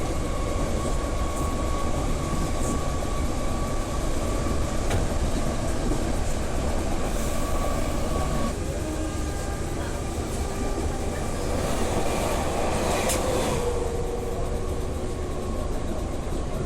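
A train rumbles in and out of Spittal station, a continuous loud low roar with rail hum and clatter filling the whole stretch, with brief brighter squeals and a short announcement tone near the end.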